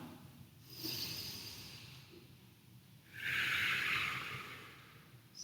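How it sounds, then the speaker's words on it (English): Slow breathing during a Pilates neck-extension exercise: a soft inhale, a pause, then a longer, louder hissing exhale close by, with no talking. "And I want you to inhale as you lift. Exhale as you come down."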